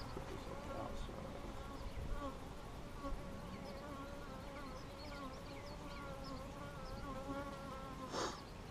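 Honeybees at an open hive in a bee yard, a steady layered buzzing drone that persists throughout, with a few passing bees flying close.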